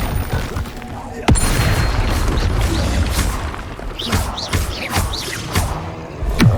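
A Bombarda explosion spell in Hogwarts Legacy blasts with a loud booming crash, followed by rumbling combat noise, scattered thuds and whooshing effects, mixed with brief game voices.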